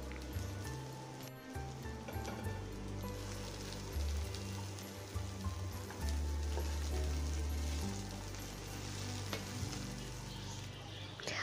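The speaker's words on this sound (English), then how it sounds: "Saute the okra on high flame for 5 minutes till it becomes a little tender." Okra sizzles and fries steadily in a hot pan over a high flame for a Maharashtrian bhindi stir fry, a dense close crackle with a low rumble and occasional stirring.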